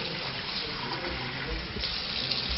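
Steady stream of tap water running into a sink, continuous and fairly close, with no voices over it.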